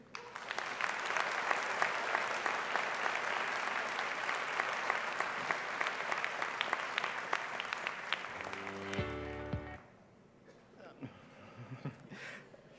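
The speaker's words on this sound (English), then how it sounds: "Please join me in one more round of applause for the award winners." Broad, steady applause from a large audience for award recipients at a university winter commencement, continuous clapping that swells and then dies away near the end, followed by a brief musical tone and room noise.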